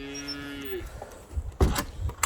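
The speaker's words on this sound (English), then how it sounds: "Oh, the cow's making up noise." On a farm, a cow gives one drawn-out moo that fades away, followed by a few thumps and rustles nearby.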